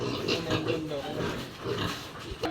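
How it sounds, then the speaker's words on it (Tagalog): A mother pig on a farm grunts in low, close bursts while a person talks nearby. "Yan po yung panganay na yung mamang baboy."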